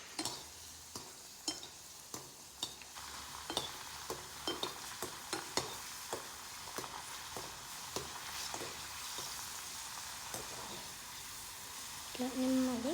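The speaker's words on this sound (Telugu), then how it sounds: "సో ఇప్పుడైతే నెమ్మదిగా సిమ్లో పెట్టుకొని ఫ్రెంచ్ ఫ్రైస్ వదులుకోవాలి, మంచిగా కలుపుకోవాలన్నమాట" French fries fry gently in hot oil over low heat, a steady soft sizzle with regular scraping clicks of a spoon stirring them, close by and quiet, no talk.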